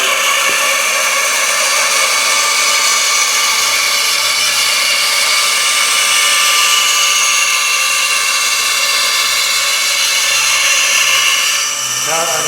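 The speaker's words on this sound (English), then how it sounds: "When you're cutting, especially on the bandsaw" A bandsaw cuts through wood in a woodworking shop with a steady, loud, broadband whine and hiss that holds through the whole stretch. Low background noise sits underneath, and the tone shifts slightly near the end.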